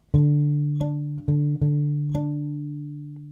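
Fingerpicked acoustic guitar plays an opening bar: a sustained low bass note with five distinct plucked strikes ringing over it, clean and close, fading out alone.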